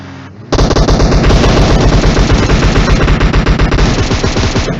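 Rapid automatic gunfire in a shooter video game, loud and close, a continuous dense burst of shots lasting several seconds.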